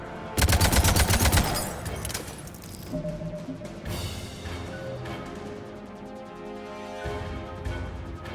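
Rapid automatic gunfire in Mass Effect 3, an opening loud burst followed by scattered shots and weapon sounds over game music, with no voices.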